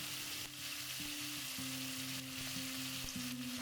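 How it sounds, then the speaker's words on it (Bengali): Ginger, garlic and onion paste fries in a wok for a Bengali fish curry, giving a steady, close, continuous sizzle with no speech and a faint tonal hum underneath. "বেটে রাখা আদা রসুন আর পেঁয়াজ কড়াইতে দিচ্ছি।"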